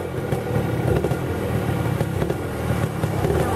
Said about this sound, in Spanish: Esperar a que pase la moto.